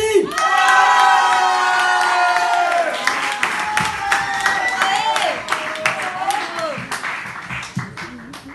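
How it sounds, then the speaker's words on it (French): A large crowd at a slam poetry event in Bordeaux cheers and screams loudly, then claps and applauds, with shouts and whistles continuing throughout. "du bruit pour Elfie"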